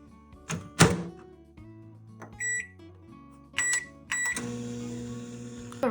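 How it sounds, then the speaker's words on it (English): A microwave oven heating ramen: a sharp door thunk, a few bright keypad beeps, then a steady running hum, all close by in a quiet kitchen. "The ramen is in the microwave."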